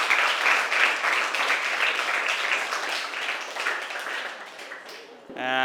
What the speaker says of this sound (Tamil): இன்னொரு தடவை கைத்தட்டல் கொடுத்துருங்க.